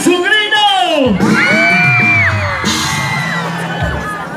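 A live concert crowd at a 2019 show in Lamay screams and whoops loudly in sustained bursts, with a voice shouting over the noise.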